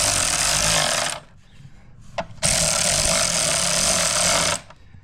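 A power driver runs a self-tapping screw into a plastic aftermarket tail light on a Ford Bronco, giving two loud, steady whirring bursts of about a second and two seconds, separated by a brief click-filled pause.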